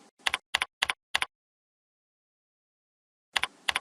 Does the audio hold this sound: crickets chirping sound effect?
no